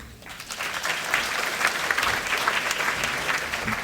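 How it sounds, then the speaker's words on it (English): Applause for finalists from an audience at an event, a broad wash of clapping that swells after a soft start and holds steady, fairly distant, with no one speaking. "And just a bit of a further round of applause for all of our finalists"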